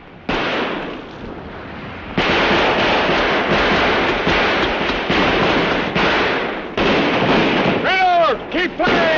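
Rapid gunfire rattles steadily across open water from a boat, a dense barrage of overlapping shots that swells louder after a brief lull, with shouting voices breaking through near the end.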